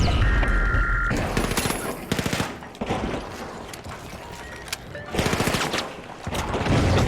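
Rapid automatic gunfire and heavy explosive launcher blasts in the shooter game The Finals, loud and nearly continuous in dense bursts, with mechanical clanks between volleys.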